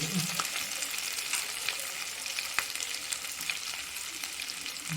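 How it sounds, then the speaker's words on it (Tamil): Sea snail and crab frying in hot oil, a dense continuous sizzle with crackling pops, close and steady throughout. "நல்லா பொரிஞ்சிக்கிட்டு தான் இருக்குது"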